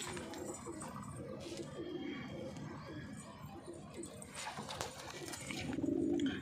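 Punjabi Malwai pigeons coo in a loft, soft repeated calls over a steady background rumble with some faint knocks and shuffling.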